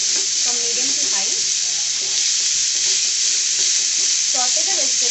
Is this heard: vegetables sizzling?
yes